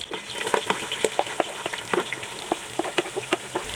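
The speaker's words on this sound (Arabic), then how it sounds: "ومعانا هنا في حدود 4 بصلات مقطعوهم قطع، هننزل بيهم في الزيت" Chopped onions, about four, dropped into hot oil mixed with ghee, sizzling with irregular crackles and pops over a steady hiss, close and moderately loud, no voices.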